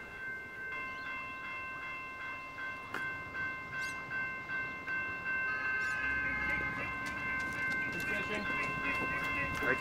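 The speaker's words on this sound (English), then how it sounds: "Here's your concession tram, mate." A tram rolls in with rhythmic clacking over the rails, steady tonal hum, and sharp clicks and squeals as it slows near the platform.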